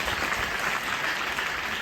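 Applause from an indoor audience at a recognition night event, a steady dense patter of many hands clapping together for under two seconds, fairly faint and without talk.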